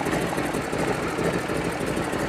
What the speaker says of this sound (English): You want to make sure the engine is at idle.